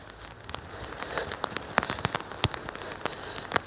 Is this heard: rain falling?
yes